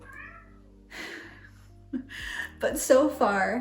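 A pet cat meows for attention near the end, short close calls overlapping a person talking.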